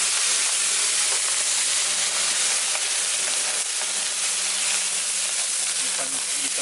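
Parsley and garlic fry in a hot pan for a Corfiot beef sofrito, giving a loud, steady, dense sizzle that holds without a break throughout.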